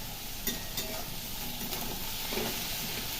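Watery chicken pieces frying in a pan at home, a steady moderate sizzle with a few utensil knocks and scrapes near the start and middle, no speech.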